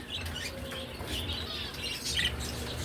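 Pet birds eating homemade soft food give a few faint, quick chirps, soft and a little distant over a quiet background.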